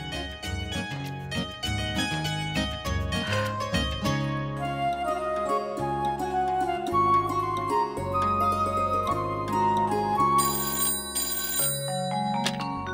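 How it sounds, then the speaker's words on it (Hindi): A telephone rings in a domestic drama scene, repeated bright electronic ring tones layered over a background music score, with no talking. "अब मैं फोन रखती हूँ, देवयानी बहन को फोन करना है मुझे।"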